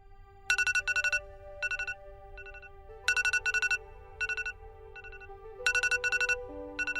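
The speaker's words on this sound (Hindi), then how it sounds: "मेरा अलार्म बज गया।" A mobile phone alarm ringing indoors, bright electronic ringtone bursts repeating in rhythmic groups of short beeps with brief pauses between, fairly close and alone without talk.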